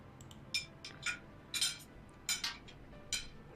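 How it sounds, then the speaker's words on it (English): Silverware clinks against plates in a quiet dining room, with scattered light metallic taps and scrapes in an irregular rhythm over a faint background hush, and no talking. "Only the clinking of silverware could be heard as a hush fills the room."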